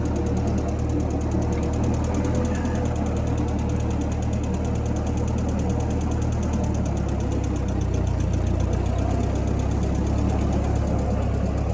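An old, cheaply refurbished tractor engine runs steadily with a loud, low, knocking putter and constant vibration, close by and unchanging throughout.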